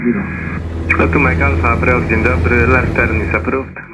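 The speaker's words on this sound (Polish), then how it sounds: "Jesteśmy na pasie startowym na pokładzie samolotu Piper. Startujemy." A Piper airplane on the runway as it starts its takeoff, a loud steady engine drone throughout with someone talking over it in a cabin-radio tone.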